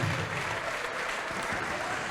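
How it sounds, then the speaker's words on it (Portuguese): Church congregation applauds together in a steady, dense burst of clapping that fills the room evenly for a couple of seconds, with a faint voice underneath at the start. "vamos aplaudir ao Senhor Jesus por cada vida que está chegando"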